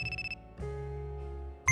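A mobile phone rings in a short electronic tone pattern, loud and close, followed by a sustained low tone and a sharp burst at the end, with no talking.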